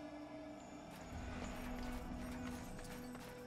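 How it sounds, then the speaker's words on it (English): Horse hooves clip-clop steadily in the video game Darksiders 2, soft and continuous beneath a dense bed of ambient game sound. "This is no place for a horse."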